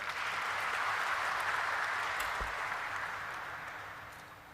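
A seated audience at a stock exchange listing ceremony for Popular Vehicles and Services Ltd gives a soft, distant round of applause, a steady wash of clapping that slowly fades toward the end.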